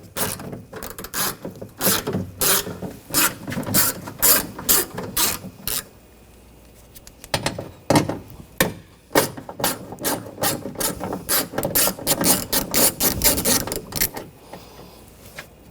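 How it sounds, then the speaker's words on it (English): A ratchet with a 10mm socket loosens nuts on a 2014-2020 Nissan Rogue door, giving close, loud bursts of rapid clicking, a short pause, then more clicking runs with no talking. "Take these two nuts out,"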